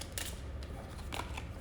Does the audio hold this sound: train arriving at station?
no